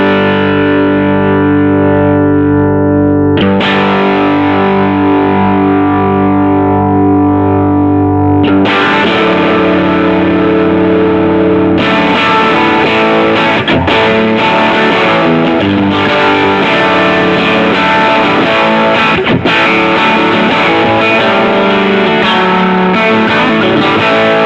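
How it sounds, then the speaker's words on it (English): An electric guitar plays through an amp-in-a-box pedal set for a Tweed Deluxe 61 style tone, loud and crunchy with sustained overdriven chords and notes, then busier picked phrases, played alone with no talk. "it kind of gets you the Tweed style sounds, or in this case, a Deluxe 61 type sound"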